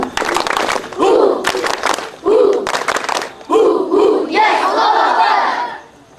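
A scout group at a campsite shouts a chant in unison, punctuated by bursts of rhythmic clapping, loud and close, ending in a drawn-out collective cry.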